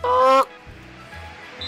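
A person imitating a chicken's call, one loud, short, nasal squawk-like cry followed by quieter low sounds.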